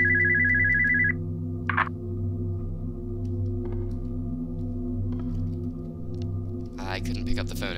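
A telephone rings in the horror video game Spooky's House of Jump Scares, a steady electronic trill in the first second, followed by sparse clicks and a brief noisy burst over a constant low droning game ambience.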